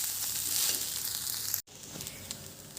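Ingredients for khichuri sizzle in a hot pan with a steady hissing crackle. The sound cuts out for a moment, then the frying resumes more quietly.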